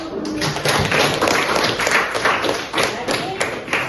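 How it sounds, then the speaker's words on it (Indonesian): Applause from a small group, with uneven, fairly close claps and thumps that form a loose patter, and voices heard now and then underneath. "Ya, jadi tepuk tangan."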